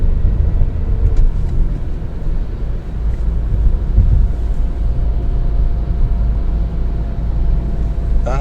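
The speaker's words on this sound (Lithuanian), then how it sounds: "Aišku, gale yra triukšmo, iš šono biškai yra triukšmo, girdite kelią, bet nėra labai erzinanti" Road noise inside a moving 2024 Dacia Jogger Extreme, a continuous low tire rumble mixed with wind hiss, loud and steady throughout.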